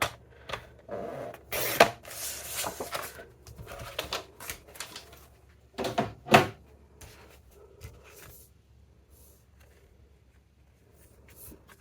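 A 1 3/4 inch strip is cut off the bottom of a paper page for a mini album, heard as a few close, rasping cutting passes with softer paper handling between them.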